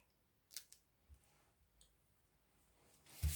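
Scissors cut origami paper for a dollhouse craft, making a few quiet, crisp snips spaced apart in an otherwise hushed room, followed by a louder rustle at the end.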